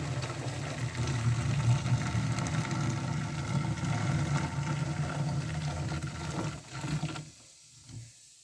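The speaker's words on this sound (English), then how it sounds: "This is carbon dioxide being released." Carbon dioxide fizzes steadily as a dry mixture dissolves in about 1,800 milliliters of hot water, a continuous bubbling hiss that carries for about seven seconds, then cuts off into near silence.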